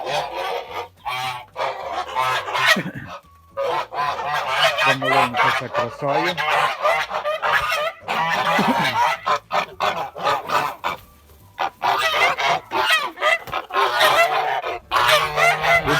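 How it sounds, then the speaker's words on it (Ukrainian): Kholmogory geese honk loudly and repeatedly in a noisy flock nearby as they are let out, with a person speaking briefly among the calls. "Так, випустимо наших гусей."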